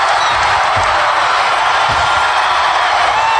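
Wrestling arena crowd at King of the Ring 1996, a loud dense roar of cheering and yelling filling the space continuously for a few seconds.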